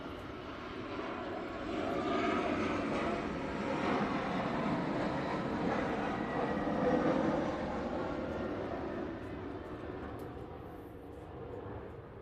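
Airplane engines near Schiphol Airport roar steadily through the whole stretch, a broad distant drone that swells slightly in the middle and eases at the end, with no voices over it.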